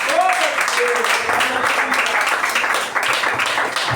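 A church congregation clapping during a communion service, joyful rhythmic clapping with voices and singing mixed in.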